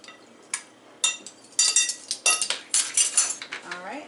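Utensil scraping and clinking against a bowl while raspberry pie filling with lemon juice and vanilla is stirred, a series of close, uneven metallic strokes over about four seconds, with a brief voice near the end.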